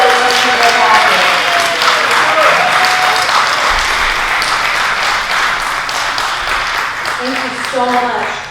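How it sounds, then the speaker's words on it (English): Applause from an evening campaign event crowd at Valley Keel Estate welcomes owner Joe Cassidy to the front, a loud, sustained, dense clapping that holds steady throughout with voices speaking faintly beneath it. "Please give a big round of applause for Mr. Joe Cassidy"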